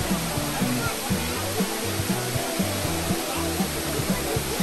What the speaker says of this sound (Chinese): 哇，它这个是2层的瀑布。